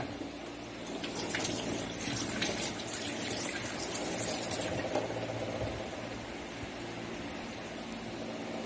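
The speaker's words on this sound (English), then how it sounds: "wet your hands with water" Running tap water splashing steadily onto hands at a sink, a soft continuous trickle and patter with faint background hum, no voices.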